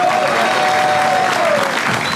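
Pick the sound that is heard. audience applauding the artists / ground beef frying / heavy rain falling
audience applauding the artists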